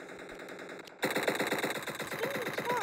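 Rapid automatic gunfire from the Battle Forces video game bursts in after a second of quieter background, firing in a steady fast rhythm through to the end, loud and close.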